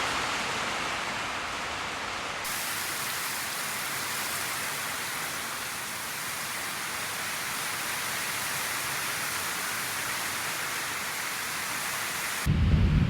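Thunder rumbles outside during a storm near a workshop, a steady broad wash of rain and low rolling rumble that holds evenly for several seconds, distant and unbroken, with no talk.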